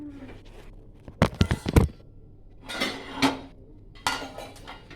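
Fried egg bujji lifted from the pan onto a plate, a quick burst of clattering metal and scraping followed by softer clinks and taps, close by with no talk.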